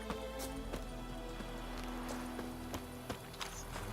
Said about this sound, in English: Horse summoning.